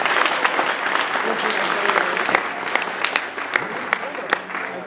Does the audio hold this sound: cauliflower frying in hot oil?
no